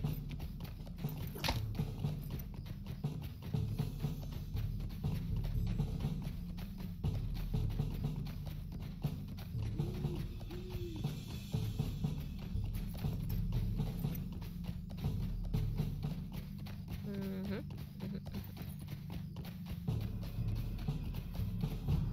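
Horse hooves clopping rhythmically and continuously in the Lord of the Rings Online game, moderately loud over a low ambient game backdrop, with occasional faint mechanical clicks.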